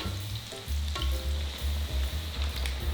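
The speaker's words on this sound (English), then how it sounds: "Rotate them continuously while frying." Churros frying in hot oil while being rolled and turned continuously, a steady loud sizzle with bursts of crackle throughout and no talking.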